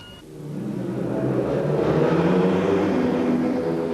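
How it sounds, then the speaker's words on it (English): Superbike engines revving on the grid at the start of a British Superbike race, a loud, sustained rising drone and whir of several motors held at high revs, with no voices. "already the revs rise"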